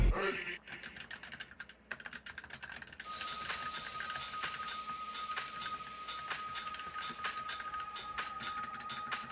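Rapid clicking of typing on a computer keyboard, close and continuous with a steady patter of keystrokes and occasional heavier taps, a faint tone humming in the background.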